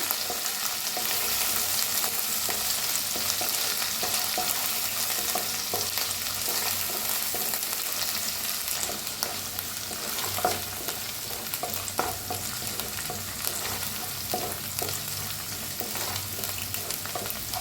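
Ground masala roasts in a pan, a continuous soft sizzle and crackle with occasional scraping stirs, steady and close throughout with no talking.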